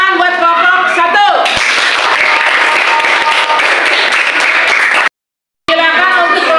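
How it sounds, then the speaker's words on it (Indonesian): Classroom students clapping for group 1 after their presentation, starting just after a spoken line and continuing as a loud, dense round that cuts off abruptly and briefly before resuming. "tepuk tangan buat kelompok 1"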